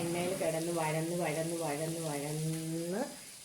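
Ivy gourd stir-fry sizzles steadily in hot oil, a continuous close hiss running under a person's voice before it fades at the end.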